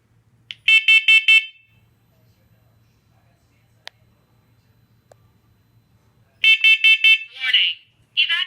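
Smoke alarm during a monthly test, sounding two bursts of rapid shrill beeps separated by a quiet gap, the second burst followed by a short synthetic tone, loud and close.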